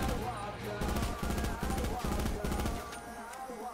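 The Swordfish weapon in Call of Duty: Black Ops 4 fires in a steady run of rapid, evenly spaced shots, loud and close, with game music running underneath.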